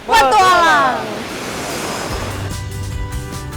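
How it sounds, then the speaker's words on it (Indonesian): High surf crashes steadily at Krokoh Beach on Java's southern coast, facing the Indian Ocean. A voice talks briefly at the start before a continuous wash of breaking waves takes over. "Pantai Krokoh mempunyai ombak yang tinggi"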